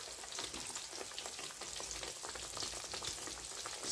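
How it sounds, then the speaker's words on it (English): Large catfish pieces fry in hot oil, giving a steady, dense crackle and sizzle that holds at an even level throughout, close up with no voices. "All right, we're going to let these fry."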